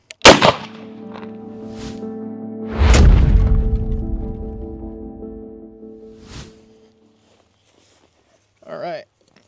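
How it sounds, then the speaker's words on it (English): A .308 rifle round strikes a body armor plate in a range test: a loud close crack, then a second heavy bang with a long ringing tail that slowly fades, followed by a brief faint sound near the end. "We're going to hit it again with the same 308 out of the same rifle"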